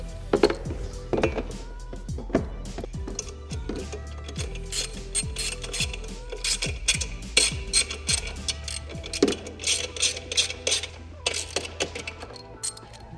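A hand ratchet tightens screws fastening the boom cover onto a Spalding Momentous basketball hoop, producing quick bursts of crisp clicking close by. The bursts are separated by brief pauses and a few knocks.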